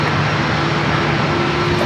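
Southwest Boeing 737 MAX 8 jet at San Diego airport, a loud, steady engine roar with a sustained tonal hum, close and unbroken for the whole stretch.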